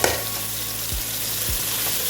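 Chopped onion fries with ginger paste and green chillies in a pan, a dense, constant close sizzle with a couple of low knocks from stirring.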